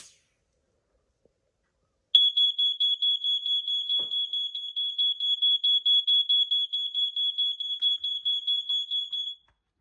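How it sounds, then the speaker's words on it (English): A First Alert SA90LT ionization smoke alarm, triggered by canned smoke, blares a loud, rapidly pulsing high-pitched beep that starts suddenly and continues steadily for several seconds before cutting off. "I'm going to see how long it will take for this alarm to quiet down while I start fanning it out"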